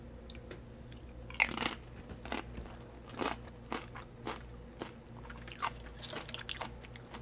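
Someone bites into a tortilla chip topped with salmon and dill ceviche, giving several sharp crunches followed by quieter chewing crackles, close and fairly soft.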